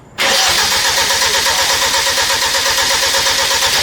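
A freshly built Hyundai Genesis Coupe engine cranks and catches on its first start-up, then settles into a loud, steady, rough running note with rhythmic pulsing close by. No one speaks.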